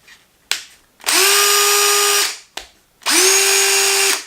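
Two bursts from an 18V cordless electric screwdriver, each with a short trigger click before a steady, loud motor whine that runs about a second and then stops.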